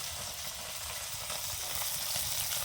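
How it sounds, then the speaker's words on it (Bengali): Steady, close sizzling and crackling of fish frying in hot oil in a wok, continuous throughout with no voices. "মাছগুলো কিন্তু আমি ভাজা বসিয়ে দিয়েছি"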